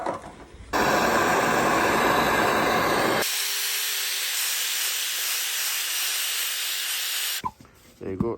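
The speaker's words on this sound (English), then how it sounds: "I'll get a blowtorch. This is a wee bit damp. Dry that off." A blowtorch dries damp wood on a big frozen tree in winter, producing a loud continuous roaring hiss that shifts in tone partway through, then cuts off into brief handling noises.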